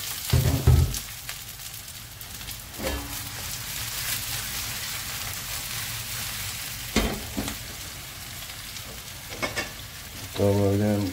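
Potatoes and sausages stewing in a lidded pan give a constant soft sizzle and bubbling, broken by a few short clanks and knocks.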